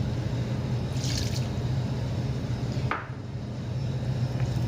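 Orange juice pours into purple doughnut dough in a kitchen, a soft close trickle and splash of liquid over a low steady background hum.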